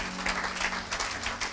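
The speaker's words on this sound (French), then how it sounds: "Clap for the Lord." A church congregation claps together during a service, a steady run of many hands in a dense, ongoing patter at moderate distance with no talk over it.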